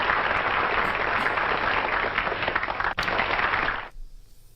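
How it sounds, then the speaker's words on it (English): A canned crowd applause sound effect, a dense steady wash of clapping that cuts off abruptly near the end, leaving quiet room tone. "Where's my applause? There we go."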